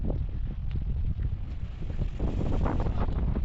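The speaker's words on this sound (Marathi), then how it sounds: "सगळे झाड एका बाजूला खाली इतकं वार आहे." Strong wind gusts through trees at a mango orchard, a loud, continuous rushing roar buffeting the microphone with fluctuating intensity and no talk.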